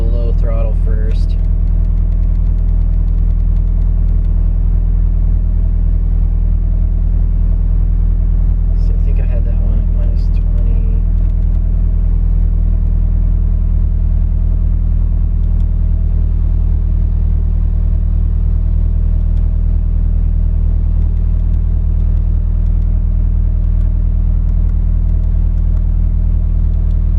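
A Nissan 240SX engine, set up for SAFC tuning and drifting, runs at low throttle with a steady, loud, low droning rumble that holds throughout, broken only by a couple of brief higher clatters.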